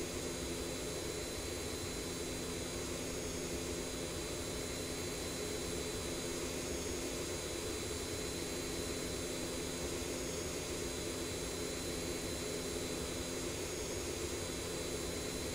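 Simulated MD-80 jet engines at climb thrust in X-Plane, a steady loud broadband roar with a constant high whine, unbroken and alone for the whole stretch.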